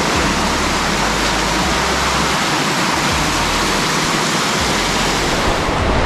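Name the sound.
golden waterfall in Capitolio, Minas Gerais, Brazil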